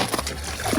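A dog named Salsa crashes through thin ice into the water beneath, giving a short sloshing splash that rises again near the end, with a voice faintly present.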